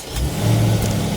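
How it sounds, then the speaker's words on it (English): A supercharged V8 in a Jaguar F-Pace SVR fires up and settles into a deep, loud, steady rumble close by, with a low throbbing drone that swells slightly midway and holds. "the supercharged V8 sound"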